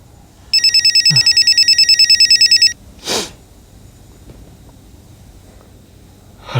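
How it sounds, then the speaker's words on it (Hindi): Telephone ringing in a tense indoor crime-drama scene: a loud electronic ring burst of about two seconds with rapid pulsing, followed by a short sharp noise, then quiet room tone. "फोन बज रहा है, फोन उठाओ।"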